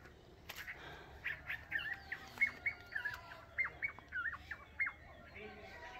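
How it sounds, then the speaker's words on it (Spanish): Small birds chirp and call from garden trees in a rural vegetable plot, a run of short bright notes coming in quick bursts over faint background ambience. "como hay bastantes árboles, llegan los pajaritos allí."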